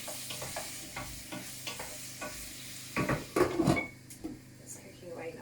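A roughly cut tomato sauce with onion and garlic simmering in a pan, a soft sizzle under a few utensil clinks and a brief louder stir or scrape in the middle, fairly quiet and close.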